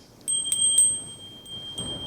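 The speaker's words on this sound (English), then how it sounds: "After 3 minutes, we will ring a bell like this." Small bell rung to mark a speech time limit at an English speech contest, three bright quick dings in a row with a fainter later ding, ringing out clearly in a quiet room.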